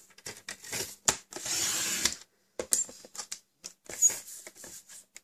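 Cardstock is cut on a paper trimmer in quiet, close scrapes and slides, with a short hissing glide of the blade, then soft taps and handling sounds of the paper.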